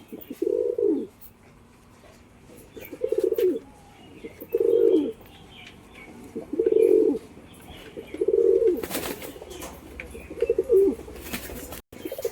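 Pigeons coo close by in a slow repeating pattern, six soft throaty calls spaced a couple of seconds apart over quiet background.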